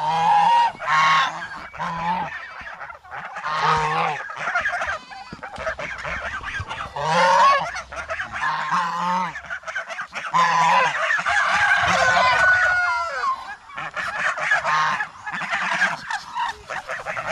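A flock of farm ducks, about twenty birds, calls in loud, repeated honking quacks that come in overlapping bursts with short pauses, fairly close and continuous throughout.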